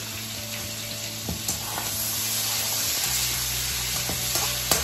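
Pork pieces frying in a pan for twice-cooked pork, a constant close sizzle with a low hum beneath and a few sharp clicks of a utensil on the pan.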